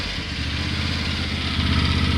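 A John Deere X350 lawn tractor engine catches and settles into a steady, close, mid-pitched running drone with a slight rise in loudness toward the end, no talking over it.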